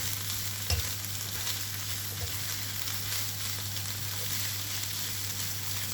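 Fried rice sizzles steadily in a pan, a constant loud frying hiss with a couple of brief stirring scrapes and knocks, close up and with no talking.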